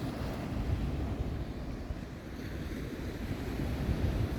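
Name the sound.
waves breaking on an empty beach in Corsica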